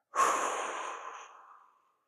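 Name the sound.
deep breath taken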